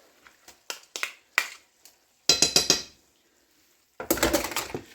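Almond milk is stirred in a bowl with a utensil, giving light clinks and taps of metal against the dish followed by bursts of rapid scraping clatter.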